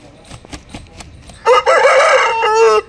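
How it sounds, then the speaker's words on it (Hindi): A two-year-old crested Aseel rooster of the Madrasi breed gives one loud, drawn-out crow that starts after a few soft scuffs and clucks and sounds close and alone. "दो साल का ताजदारा मुर्गा है"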